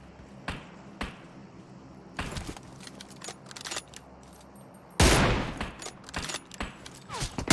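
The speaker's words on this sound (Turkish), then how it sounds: "Bot vurdu bir tanesi önümüzde bak." Gunfire in the mobile battle-royale game PUBG Mobile: scattered single shots, then a louder, denser burst of rapid fire near the end, with quiet gaps between.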